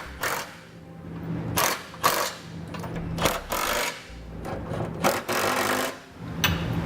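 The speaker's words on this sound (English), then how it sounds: "we can begin tightening all that hardware" Metal hardware being tightened while fitting a Curt trailer hitch receiver under a 2007 vehicle, with bursts of ratcheting, whirring tool runs and clanks repeating in a steady rhythm, close and fairly loud, with no talking.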